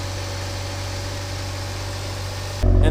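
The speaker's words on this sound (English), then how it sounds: "If we go to the front, we can hear that the noise of the engine is more linear and refined." Mazda RX8 rotary engine with upgraded ignition coils idling steadily and smoothly nearby, a continuous even hum that ends in a sudden louder rumble.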